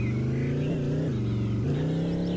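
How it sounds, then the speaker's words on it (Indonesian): Mr. Bean's small car engine, a steady buzzing drone with slight pitch rises and dips as it pulls out of a garage, close and continuous with no talk. "Ini mobil Mr. Bean, kita keluarkan dulu"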